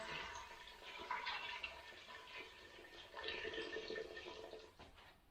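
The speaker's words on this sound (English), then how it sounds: "we're going to add some water" Water gushes and splashes steadily into a pot of softened vegetables, a soft continuous pour with faint bubbling, no voices.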